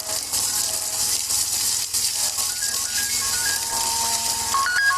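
A phone's electronic ringtone melody plays through steady hiss and background noise, its notes stepping up and down and growing a bit more prominent toward the end.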